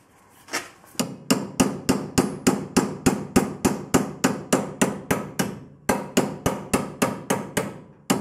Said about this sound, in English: when I hammer the piece of metal around it, it fits into place